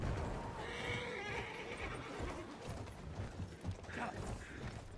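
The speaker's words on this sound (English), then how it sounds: "I'm hopping on this horsey." Horse whinnying in a multiplayer shooter video game, a neigh amid clopping hooves and mechanical game noise, fairly faint under a busy mix.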